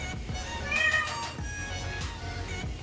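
A cat meows several times in a row at a moderate distance, the calls repeating with short gaps, and no one speaks.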